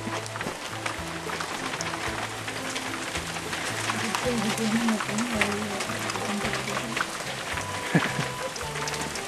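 Dense, steady clatter of pea-sized hailstones drumming on a carport roof at a farm, a continuous hiss of tiny impacts with people talking quietly beneath it.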